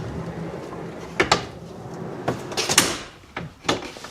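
A drawer in a DIY Jeep storage and sleeping platform slides and knocks, giving a few sharp nearby clunks and rattles with quiet gaps between them.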